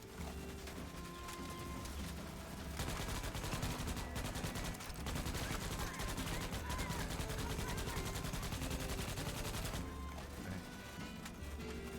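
Players crowded into a bunker in Starship Troopers: Extermination spray continuous automatic gunfire, a loud dense barrage of overlapping shots with mechanical clatter that swells and keeps going throughout.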